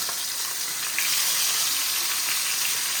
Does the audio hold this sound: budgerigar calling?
no